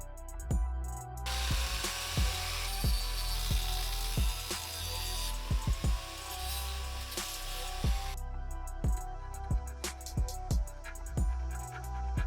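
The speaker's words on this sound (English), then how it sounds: "These bolts are a little too long, so I'm going to cut them." A power tool cuts through overly long bolts during a front mount intercooler install on a VW MK6 Golf GTI. The grinding rings steadily for several seconds between sharp clanks, with no talking.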